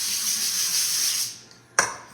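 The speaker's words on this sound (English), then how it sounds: "This is cooking spray." Non-stick cooking spray from Sprouts hisses steadily onto a baking pan for about a second, then stops, followed by a short sharp spritz near the end.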